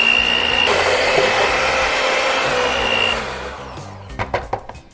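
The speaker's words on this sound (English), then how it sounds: "We'll just use the mixer to get it all smooth again." An electric hand mixer whirs steadily through pumpkin puree batter for a pumpkin roll, loud and close, then switches off and gives way to a few clinks and taps of utensils against the bowl.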